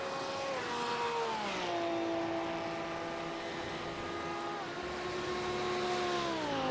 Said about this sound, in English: he rockets that naturally aspirated V10 down the back straightaway